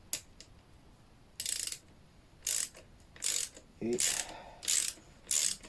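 A part is screwed in by hand after thread-locker is applied, heard as six short bursts of close ratcheting clicks separated by quiet pauses, with a brief spoken word near the start.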